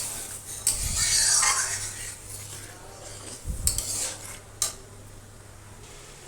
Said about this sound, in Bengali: এটা আবার ভালো করে মিশিয়ে নিব মশলার সাথে তরকাটা।